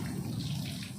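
A shower running at a beach camp cottage in San Narciso, Zambales, a steady dense hiss of falling water throughout, fairly loud and without talk.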